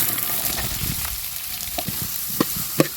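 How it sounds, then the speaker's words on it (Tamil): Finely chopped onions sizzle steadily in hot oil with spices, a dense close frying hiss with a few soft stirring clicks as they cook for goat head semi gravy. "அடுத்து 3/4 கிலோ வெங்காயம் பொடியாக நறுக்குன்னு சேர்த்துக்கலாம்"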